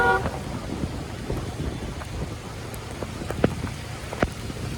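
Steady rain pours down while riding a motorbike through Dhaka streets, a broad continuous wash of falling water with a few sharp drip and splash clicks, heard alone without talk.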